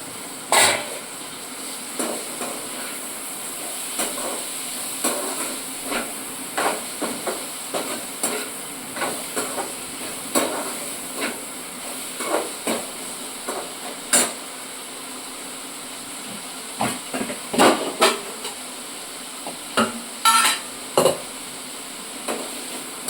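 Bitter gourd sautéing in oil for a kara kulambu and pavakka poriyal, giving a steady low sizzle broken by frequent sharp clicks and scrapes of stirring, close and moderately loud.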